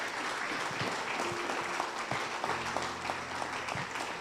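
A church congregation claps for the Lord during a pastor's service, producing continuous, fairly even applause heard from some distance, with faint voices or music tones mixed underneath.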